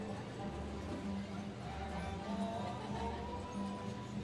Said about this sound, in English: A lot of hard-working mules in this parade.